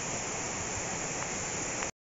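A river flows near Jarabacoa in the Dominican Republic, a steady rushing wash of water that runs evenly before cutting off abruptly near the end.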